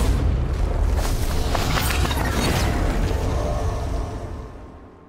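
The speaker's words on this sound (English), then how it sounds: "Or with the big explosion." A huge video game explosion tied to an apocalypse anchor bursts loud and broadband, with a heavy low boom and a rushing roar that holds for about four seconds and then fades out.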